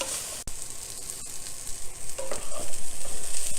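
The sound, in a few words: vegetables being tossed and sizzling in a pan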